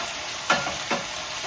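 Tomato pieces, green chillies and coriander sizzle in hot tempering oil for sambar, with a steady fry hiss and two distinct stirring scrapes close by.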